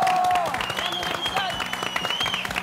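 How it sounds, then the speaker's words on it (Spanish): Studio audience applause on a Chilean TV talk show as a recycling worker guest is welcomed, a dense steady wash of clapping with a voice and tonal show music running over it. "Por favor, un gran aplauso a la recicladora Marisol Álvarez."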